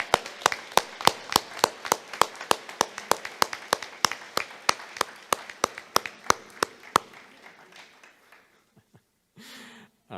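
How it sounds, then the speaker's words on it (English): Applause for the graduates at a class of 2021 graduation ceremony comes across as close, sharp, evenly spaced hand claps in a steady rhythm that gradually thin out and stop. "So one more round of applause for them."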